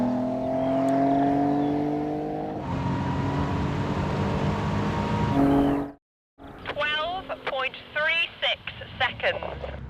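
A Ford Mondeo ST220 pulls away hard from a standing start, a loud, steady engine drone rising and building for several seconds before cutting out abruptly, followed by people talking excitedly.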